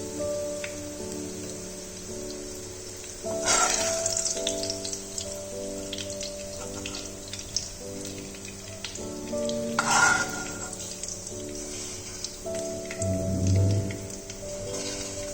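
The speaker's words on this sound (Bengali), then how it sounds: "পেঁয়াজটা ভাজা হয়ে গেছে।" Onions sizzle and fry in hot oil for a bhetki fish korma, a steady crackling hiss broken by a few louder stirring bursts, heard close and without speech.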